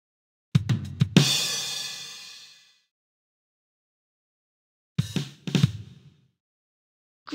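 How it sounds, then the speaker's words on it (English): Drum set in the Lamb Chop Loves Music PC game: a quick run of four sharp hits ending on a ringing cymbal crash that fades, then after a pause a second cluster of close, punchy strikes. "Great work! You found the drum set."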